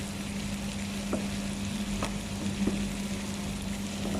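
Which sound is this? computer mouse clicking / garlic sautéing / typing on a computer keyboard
garlic sautéing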